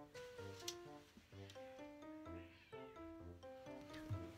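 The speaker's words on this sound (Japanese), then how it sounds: "猫がガチであの一匹のメスを争って喧嘩してた季節ね。" Cats fight over a female with drawn-out, wavering yowls and caterwauls that rise and fall in quick succession, quiet and somewhat distant.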